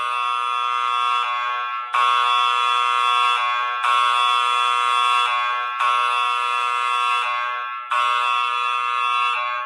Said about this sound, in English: But one day, suddenly, the fire alarm went off.